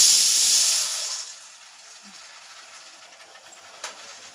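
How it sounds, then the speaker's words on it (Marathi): Kitchen pressure cooker releasing a loud steam whistle, a strong hissing burst in the first second that fades to a quiet background with a faint click near the end. "झालं 2 शिट्ट्या कुकरच्या."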